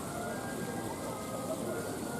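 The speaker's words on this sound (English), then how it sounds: "I think the rain's frightened the people away." Heavy rain pours steadily over an amusement park, a dense, even hiss that stays constant and close throughout, with no distinct voices.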